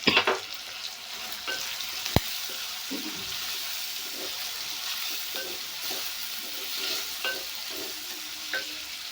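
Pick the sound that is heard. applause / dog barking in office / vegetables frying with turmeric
vegetables frying with turmeric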